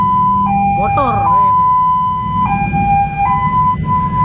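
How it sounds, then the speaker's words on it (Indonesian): A loud wailing ambulance siren cycles up and down close by, with louder escort motorbikes and a steady rumble of engines and traffic. "pengawal ambulan lebih berisik dari suara mobil ambulannya"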